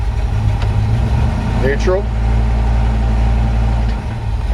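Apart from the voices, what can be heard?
old truck engine idling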